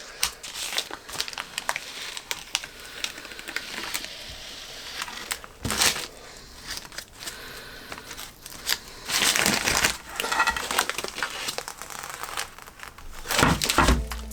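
White protective plastic film is peeled off a Honda CB750 cafe racer under-seat electrics tray, giving close crinkling and tearing bursts that come in uneven spurts, loudest near the middle and end, with no talk.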